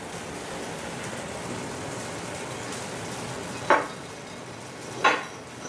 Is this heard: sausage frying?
yes